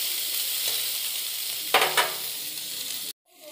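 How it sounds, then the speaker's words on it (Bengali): Soybean chunks frying in a pan, a steady hiss of sizzling with a brief stirring scrape midway before the sound cuts off abruptly. "সয়াবিনটা ভাজা করলে ভালো হয়"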